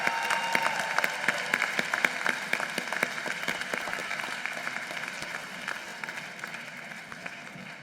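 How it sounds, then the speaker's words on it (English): An audience at the St. Thomas University School of Law commencement ceremony applauds the marshals seated in front, many distinct claps ringing out at first and gradually thinning and softening toward the end. "If we could give a round of applause to our marshals that are here in the front."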